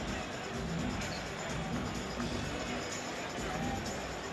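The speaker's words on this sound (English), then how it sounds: "The Knicks are hearing some boos from the crowd." A basketball crowd at Madison Square Garden boos the Knicks during a game against the 76ers. The sound is a dense, sustained wash of crowd noise, steady and unbroken from start to finish.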